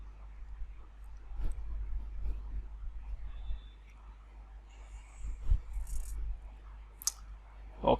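Faint, sparse clicks of typing and mouse use on a computer sit over a low background hum, with a few quiet taps spread out and no speech.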